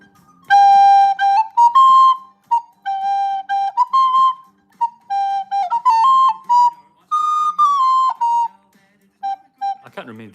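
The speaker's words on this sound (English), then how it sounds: "Can I play the tin whistle? Yes, I can play the tin whistle." A tin whistle plays a bright, lively tune up close, with short phrases and rests between them, loud and clear and alone until a brief noise at the very end.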